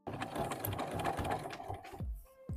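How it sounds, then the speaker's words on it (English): Sewing machine hemming and top-stitching a denim jacket, a steady rapid mechanical whir running close and loud before stopping abruptly, followed by a faint clunk. "now we are going to hem it, top stitch it"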